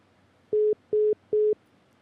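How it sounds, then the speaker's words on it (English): A telephone busy signal after a dropped call sounds as three evenly spaced, mid-pitched electronic beeps, clear and alone over a quiet line. "Phone hung up. Call right back, Rose."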